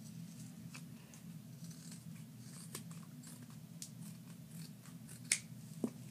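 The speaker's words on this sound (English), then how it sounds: "Then what you're going to do is you're going to cut it on the top." Scissors cut across the top of a strip of duct tape for a homemade clutch purse: faint, close snipping over a low steady hum, with two sharper clicks near the end.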